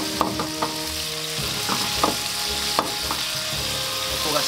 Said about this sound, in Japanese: 火を強めて、お醤油ちょん、ちょっと焦がす感じ、これぐらい。